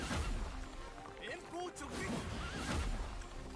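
A horse in the video game Dynasty Origins neighs as a hero mounts it, with clip-clop hoof sounds and a game voice talking over it.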